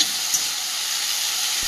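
Vegetables with salt frying in a pan, a steady dense sizzle with no break, loud and close. A single soft stir sounds once near the start.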